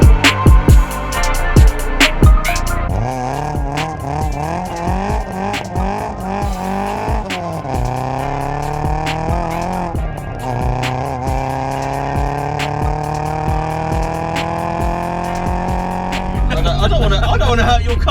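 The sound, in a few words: car driving on wet road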